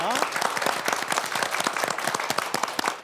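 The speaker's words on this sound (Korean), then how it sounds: "여러분 큰 박수 보내드리겠습니다" A studio audience at a televised antiques appraisal show gives warm applause: a thick patter of many hands throughout, with a voice speaking over the start.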